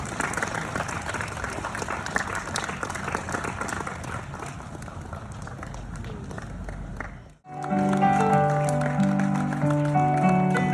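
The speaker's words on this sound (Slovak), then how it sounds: "nech tento potlesk je aj taký symbolický darček k tvojmu životnému jubileu" A theatre audience applauding actress Magda Matrtajová at a public gathering, sustained dense clapping from a large crowd, then a sharp cut into music.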